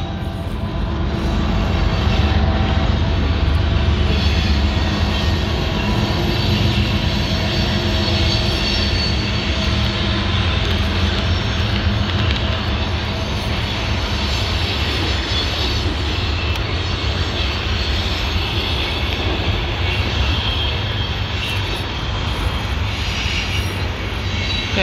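A CSX manifest freight train led by locomotive 5258 passes at Newburgh, New York, giving a loud, continuous rumble of engine and rolling cars that holds steady for about twenty-five seconds.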